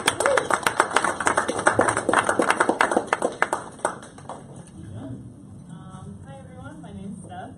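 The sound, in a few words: audience applause for a first-time moderator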